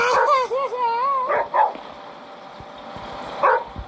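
A dog in a video game yips and barks in a few short bursts with whimpering tones, close and clear, separated by quiet gaps.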